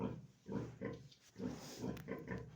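Piglets grunt and squeal in a series of short, muffled bursts at moderate distance on a farm during vaccination and tail docking, against a low background hum.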